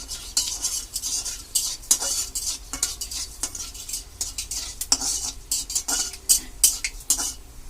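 A utensil scrapes and clatters steadily against a wok full of chopped mixed vegetables being stirred, with a faint sizzle underneath and no voices.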